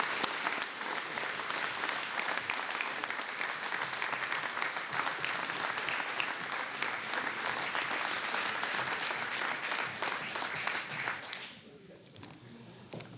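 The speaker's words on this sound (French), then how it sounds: "je vous demande de les applaudir fortement." A New Year's address audience applauds strongly, with dense, loud, steady clapping that holds for about eleven seconds before thinning out and fading near the end.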